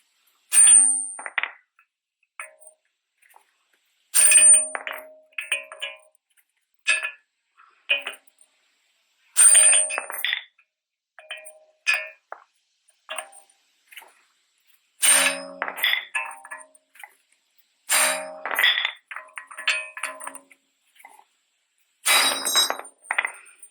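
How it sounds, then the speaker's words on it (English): Hammer blows on a socket driving the centre out of a front wheel bearing on a 2011 Toyota Camry, heard as repeated sharp metallic clangs in irregular clusters with silent gaps, close and loud. "Now we can hit it with the hammer to remove the center part."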